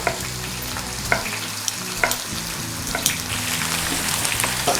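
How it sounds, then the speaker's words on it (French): Chopped tomatoes and farm chicken cook in a pan with a steady, fairly loud sizzle, while the spoon makes a few sharp taps roughly once a second. "Et on laisse mijoter tout ça."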